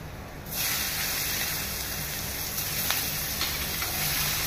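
A sudden burst of loud hissing as onions hit hot oil in a pan, then continuous close sizzling that holds steady.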